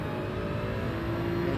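A race car in a racing game lapping the Suzuka circuit, its engine droning at a steady high pitch with a constant buzzing tone, close and loud throughout.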